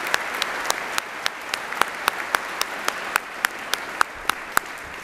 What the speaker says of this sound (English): if you would just give a little round of applause to them